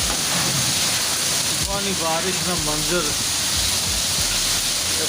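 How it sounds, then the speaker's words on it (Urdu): Heavy morning storm rain in Dadyal, Azad Kashmir, makes a dense, steady roaring hiss throughout, while someone speaks briefly over it partway through. "پاکستان آزاد کشمیر کے اندر انتہائی خوفناک بارش"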